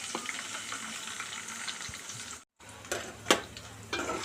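Onion and green chilli fry with cumin seeds in hot oil for a ridge gourd, coconut and chana dal masala curry, giving a steady close sizzle that cuts out briefly, then resumes with a few sharp stirring clinks.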